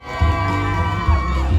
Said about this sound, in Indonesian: Boleh tepuk tangan yang meriah untuk